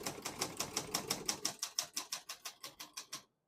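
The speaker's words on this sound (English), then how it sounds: "We're going to keep that on single space and finish typing." Typing on a 1970 Olympia SM9 portable typewriter: a steady run of about eighteen crisp, evenly spaced key strikes at close range, each a sharp metallic clack, ending abruptly in silence.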